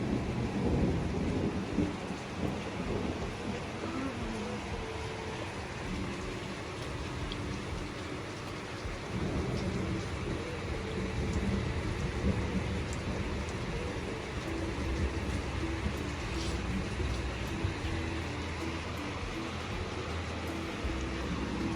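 Steady rain falls through a thunderstorm, with low rumbles of thunder rolling under a continuous soft hiss, all fairly faint and distant.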